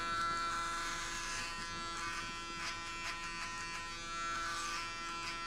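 Electric hair clippers buzz steadily and close up while shaving a head down for a buzzcut fade, a continuous whirring hum running through the whole stretch with no talk over it.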